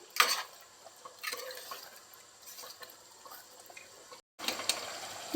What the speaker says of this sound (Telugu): ఒక పావు లీటర్ వరకు నీళ్లు పోసుకుందామండి